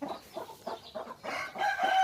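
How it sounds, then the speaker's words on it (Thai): Chickens kept beneath a woven wicker coop give out a rooster's crow and clucks, a few broken calls rising over about two seconds, close by and fairly loud. "ไก่มันติดสุ่มอยู่ผมไม่ได้เลี้ยงนะครับ"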